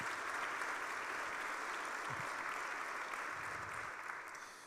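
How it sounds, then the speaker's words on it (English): Audience applause at the Carmel, Indiana State of the City 2025 event, a steady dense wash of clapping from a large crowd that holds for several seconds and thins slightly toward the end. "Let's give him another round of applause."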